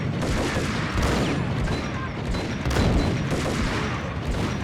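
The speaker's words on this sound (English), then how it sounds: "Oh, shotgun." Shotgun fire in the 2001 PC game Max Payne, forming a dense, loud, continuous barrage of booming blasts amid gunfight noise with no clear pauses.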